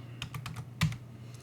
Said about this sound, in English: So what I'm doing is I'm typing in SSH